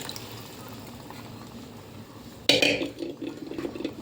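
Water poured into a pot of cooked dal, a sudden splashing pour that starts partway through after quiet kitchen background, then continues as a lively liquid sloshing close by.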